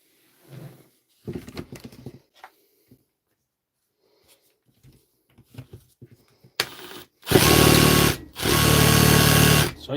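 A repaired DeWalt cordless drill, powered by a small, worn battery, whirs loudly in two sustained bursts near the end, with a short pause between them, after quieter handling knocks and brief speech.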